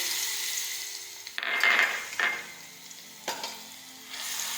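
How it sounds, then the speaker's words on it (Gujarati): Garlic sizzles in hot oil with a steady crackling hiss, broken by a few louder bursts and stirring scrapes against the pan. "હવે આપણું તેલ છે તે ગરમ થઈ ગયું છે હવે આપણે તેમાં લસણ નાખી દઈશું"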